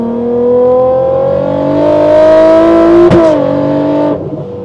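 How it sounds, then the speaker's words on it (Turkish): Automatic Toyota Supra with a 1200 hp setup accelerating hard, a loud close engine note climbing steadily in pitch, then a sharp exhaust pop and a brief dip as it shifts before the revs continue. "Sen tam ortasına attığın için o patlı duyuyoruz."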